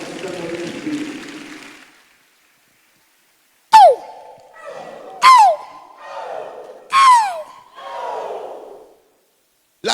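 A church congregation cheers and acclaims God in loud swelling shouts, several separate bursts of crowd roaring after a brief silence, with whistle-like cries riding on top.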